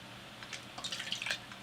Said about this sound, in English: I'm also going to be adding half a cup of water